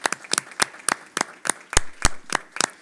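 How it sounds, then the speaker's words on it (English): A handful of people at an education committee meeting clap briefly, a sparse, uneven run of close, crisp handclaps lasting a few seconds. "I definitely think they deserve a round of applause."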